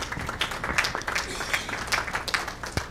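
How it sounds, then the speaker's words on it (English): Sparse applause fills a school board meeting room for students who have just presented, a thin scattering of individual claps from a small audience, fairly quiet and uneven. "Round of applause. It takes a lot of courage to come up there."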